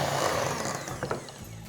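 An electric mixer beats sugar cookie dough with vanilla extract and a large egg, a steady dense whir with faint rattling near the end.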